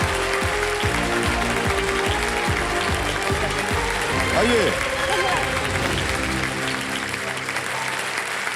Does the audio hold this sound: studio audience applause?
yes